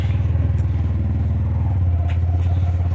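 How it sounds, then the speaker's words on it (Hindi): Motorcycle engine running steadily at close range, a low mid-frequency rumble with rhythmic pulsing, on a rural village road, no talk over it. "start, bike Mori"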